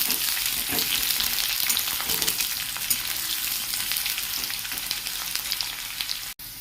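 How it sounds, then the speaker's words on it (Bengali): Eggplant and potato pieces fry in hot oil, a dense continuous sizzle with occasional stirring scrapes, steady and close throughout. "বেগুনগুলো আলুটার সাথে ভালো করে নেড়ে চেড়ে নেব। এটা 2 মিনিট মতন বেগুনটা ভালো করে ভেজে নেব।"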